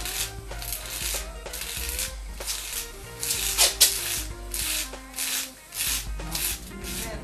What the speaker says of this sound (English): unsharpen the edges of the blade with the sandpaper